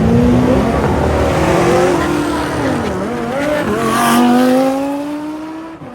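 Four-wheel-drive race car doing a burnout at a Malta racing event, loud continuous engine roar with rising and falling revs and tire squeal, close and alone for about six seconds.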